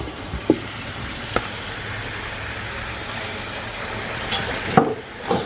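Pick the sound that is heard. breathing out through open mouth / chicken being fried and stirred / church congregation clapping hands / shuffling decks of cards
chicken being fried and stirred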